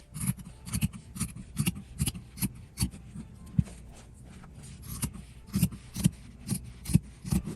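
Scissors trimming fabric scraps give a close series of crisp, rhythmic snips, roughly two per second, with brief pauses between runs of cuts.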